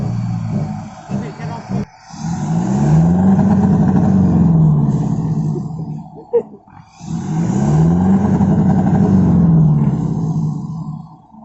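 A common rail diesel pickup engine revving hard in two long surging bursts, each rising and falling in pitch, loud and close, with people talking in the pauses between them.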